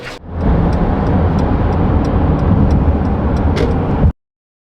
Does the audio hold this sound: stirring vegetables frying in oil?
no